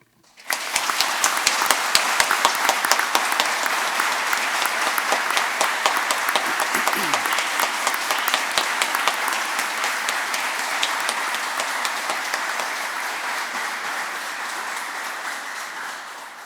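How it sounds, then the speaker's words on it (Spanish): Sustained applause fills a lawyers' swearing-in ceremony before the Supreme Court, many hands clapping densely and steadily for the whole stretch, slowly tapering toward the end. "Aplaudamos este logro."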